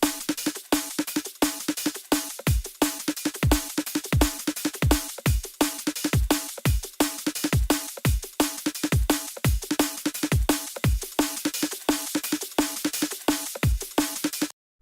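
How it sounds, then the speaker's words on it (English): Layered drum pattern with the compression removed, a steady groove of sharp hits about four per second over a sustained low-mid tone, bass-drum thumps dropping in pitch, loud and close, no voices. "And then without the compression."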